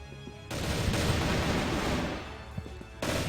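M4 rifle gunfire in the Crossfire video game at a pro qualifier match, a sustained loud burst of rapid shots lasting a couple of seconds, stopping briefly then resuming.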